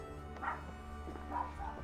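A dog in the Assassin's Creed Valhalla video game gives a couple of faint, brief barks, one near the start and another later, over a steady low game-background hum.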